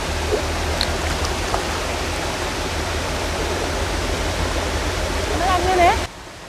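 River water rushing steadily and loudly close by while ducks are washed in it, a dense continuous roar that runs unbroken before cutting off near the end.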